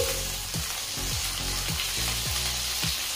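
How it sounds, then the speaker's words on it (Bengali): Ginger and green chili paste fries in hot oil with a loud, steady sizzle, while a spatula stirs in regular strokes about every half second, each giving a short scraping swoop over the crackle. "এবারে তেলে একটু নেড়ে চেড়ে নিচ্ছি"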